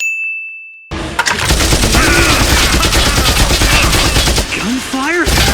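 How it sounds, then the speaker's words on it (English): Gunfire in a Death Note anime scene: a dense, loud burst of rapid machine-gun shots filling the clip after a second of near silence, with a metallic ding at the start and pitched tonal effects near the end. "Gunfire?"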